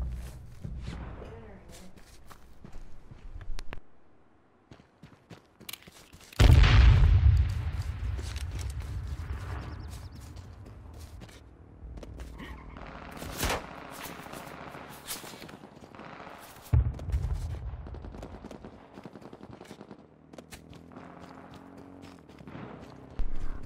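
Pistol shots in the video game H1Z1 fire in a few sharp, loud bursts spread across a long stretch of in-game ambience and movement, with a voice talking at times.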